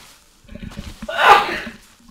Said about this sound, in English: Excuse me for that sneeze.